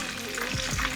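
Prawns deep-fry in hot oil, giving a brief, dense, steady sizzle and bubbling heard up close.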